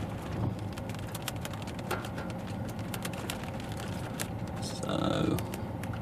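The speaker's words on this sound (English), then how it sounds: "We've got a little bit of small hail just tinkering off the bonnet and the windscreen." Small hail ticks steadily on a car's bonnet and windscreen at Shooters Hill, a dense patter of irregular light clicks over a constant rain-like hiss, close and fairly even throughout.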